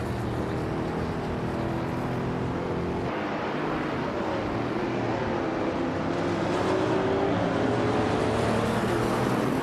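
A 1968 Dodge Dart Hemi Superstock races in a driving game, its engine a steady, loud roar that holds throughout, with a continuous tonal drone and no talk over it.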